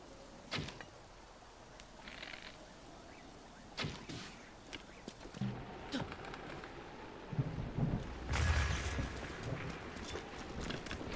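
Thunderstorm inside The Legend of Zelda: Breath of the Wild, with steady rain hiss beneath rolling thunder and sharp cracks that swell louder toward the end, fairly quiet overall.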